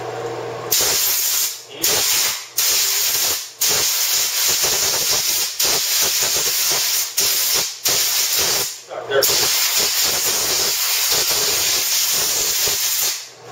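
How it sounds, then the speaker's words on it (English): Compressed air hose blasting to blow molded parts loose from a simple transfer mold, a loud hissing rush in repeated long bursts separated by brief gaps, with occasional voice beneath. "take your air hose"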